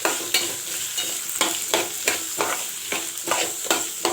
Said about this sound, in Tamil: வரமிளகா சேர்க்கலாம். சும்மா லைட்டாக வதக்கினா போதும், ரொம்ப வதக்கணும்.